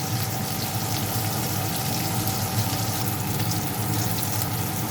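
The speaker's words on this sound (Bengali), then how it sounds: "মাছটা আমি লাল লাল করে ভেজে নেব।" Pieces of katla fish frying in hot oil in a pan until reddish-brown, a loud, steady, continuous sizzle and crackle with no talking.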